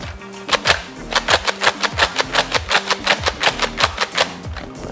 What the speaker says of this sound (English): Now I'm gonna slam fire it.